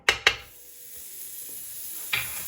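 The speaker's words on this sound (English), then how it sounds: "I'm using a cast iron pan, but what you want to do is add a little bit of butter into the middle" Butter sizzles in a hot cast iron pan, a steady soft hiss after a couple of sharp clinks at the start and another near the end.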